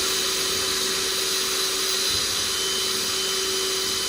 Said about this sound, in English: put it back in the drill, like so